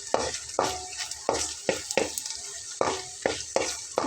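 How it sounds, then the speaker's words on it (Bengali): Dried chillies fry in oil in a pan, sizzling steadily while a spoon stirs in regular scraping strokes about every half second, close and alone. "ঝালগুলোকে এভাবে ভেজে নিতে হবে।"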